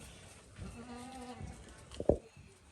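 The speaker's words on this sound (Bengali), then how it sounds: "এগুলো কি আপনার সব খাসি?" Goats on a farm give a drawn-out bleat, then a short sharp call, close by against quiet background noise.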